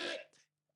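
A man coughs once, sharply and up close, followed by a brief second catch of the throat and a short pause.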